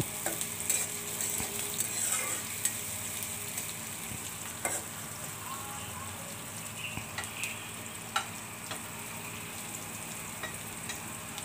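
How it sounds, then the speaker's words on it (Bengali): Onions stir-fried briefly in a pan keep up a moderate, even sizzle, broken by light scrapes and taps from a utensil as they are turned, with no voices. "পেঁয়াজগুলো খুব বেশি ভাজবো না আমি সামান্য একটু নেড়ে চেড়ে নেবো"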